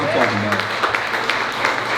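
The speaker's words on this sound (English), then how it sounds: "Keep them applause coming" Crowd applause at a family support gathering, a dense wash of many hands clapping with cheers, while someone talks over it.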